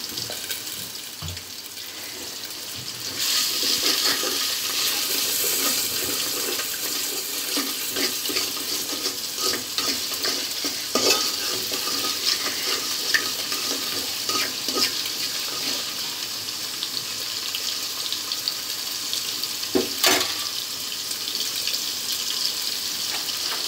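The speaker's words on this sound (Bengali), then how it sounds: "রসুনগুলোকে ভালো করে ভেজে নেব যেন রসুনের গন্ধটা চলে যায়" Garlic fried and stirred in a pan ahead of a prawn and taro-stem curry makes a steady, loud hissing sizzle with recurring scrapes and clicks of stirring, close and with no talking.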